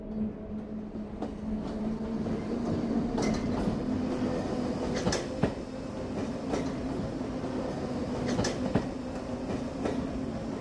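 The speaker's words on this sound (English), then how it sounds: "the last time that he will ever drive a C-stock train" A London Underground C-stock train runs steadily in Roblox, with a continuous rumble, rhythmic clickety-clack of the wheels and a faint tonal hum throughout, and no talking.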